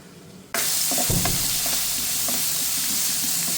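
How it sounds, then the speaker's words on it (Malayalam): Onions and tomatoes hit hot oil in a pan with a sudden loud sizzle that starts after a brief quiet moment, then a steady, close frying hiss with a few soft stirring knocks, no voices. "ഇതിൽ ഓയിൽ ഒഴിച്ച് ചൂടായിട്ടുണ്ട് ഇനി നമുക്ക് ഉള്ളിയും ടൊമാറ്റോവും എല്ലാം ഇട്ടിട്ടൊന്ന് വഴറ്റിയെടുക്കാം"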